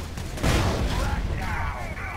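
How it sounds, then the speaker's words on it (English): A grenade bursts in the Dawn of War 3 strategy game, a loud broadband blast that swells over a steady din of gunfire and battle noise, with a voice talking over it. "Here comes the nade."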